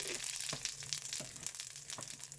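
Cumin seeds sizzle in hot mustard oil, a steady crackling fry with a few sharper pops scattered through, close and moderately loud with no talking.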